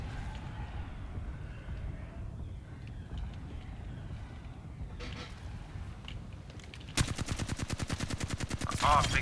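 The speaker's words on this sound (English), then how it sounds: "I'm getting shot at" Apex Legends gunfire: a quiet stretch of distant game noise and faint shots, then a loud rapid automatic burst near the end, sharp evenly spaced shots for about two seconds.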